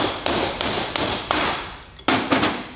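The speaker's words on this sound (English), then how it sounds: "rotate it, and then start hammering on the other side" A hammer strikes a rear wheel bearing race on a Ford Super Duty, giving six sharp metallic blows in an uneven rhythm, loud and close, with ringing decay between hits.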